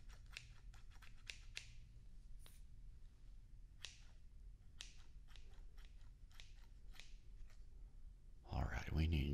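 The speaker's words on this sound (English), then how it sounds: "Almost finished with the scissors, but not quite yet." Barber scissors snip through hair in quick, crisp, close cuts, some in rapid clusters and others spaced apart, against a quiet room, before a louder rustling burst at the end.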